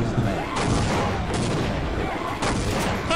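In Sven Co-op, a rocket fires and explodes amid dense, continuous gunfire and booms. Several sharp blasts stand out in a loud, crowded battle.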